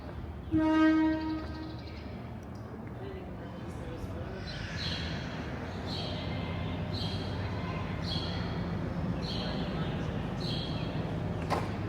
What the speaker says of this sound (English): The train is off again